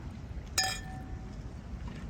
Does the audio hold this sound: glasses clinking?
yes